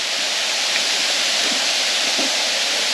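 Waterfall in the Kimberleys spilling down a rock wall into a clear swimming pool, a steady broadband rushing hiss that stays loud and even throughout, with no voices.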